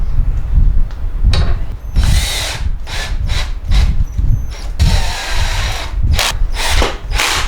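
A power drill drives pocket screws into a wooden van bed frame in repeated short whirring bursts, loud and close, with brief pauses between screws.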